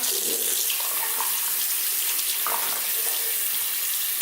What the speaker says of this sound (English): see the water running clear